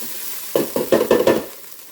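Tomato paste cooking in a pan for a quick chicken Parmesan sauce, sizzling under a short run of four or five rhythmic stirring scrapes, close and fairly loud, then fading to a soft hiss.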